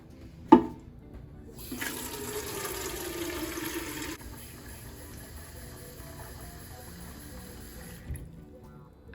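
A shower runs indoors to water large houseplants, a steady hiss of falling water that starts after a short knock, holds for a few seconds, then drops to a softer flow.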